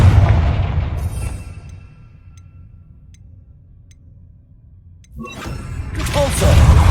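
Casting the Confringo spell in Hogwarts Legacy sets off a heavy low boom, then near-silence with faint ticks, followed by a sharp burst and a rumbling explosion building to a loud close.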